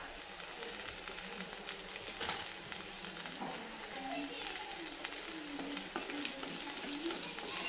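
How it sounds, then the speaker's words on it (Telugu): Onions frying in oil with curry leaves and turmeric for a stuffed brinjal masala curry, a steady, dense sizzle running throughout with occasional stirring scrapes. "ఆనియన్స్ చక్కగా వేగుతున్నాయి"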